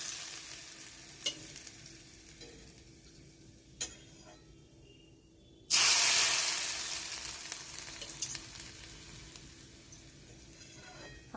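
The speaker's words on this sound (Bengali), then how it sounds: "তো আমি তো তেল গরম করে রেখেছি, তো আমি উপর থেকে আরও কিছুটা তেল দিয়ে দিচ্ছি।" Hot oil poured over mango pickle in oil, a sudden loud burst of sizzling that starts partway through and slowly fades, preceded by quiet background with a few light clicks and taps.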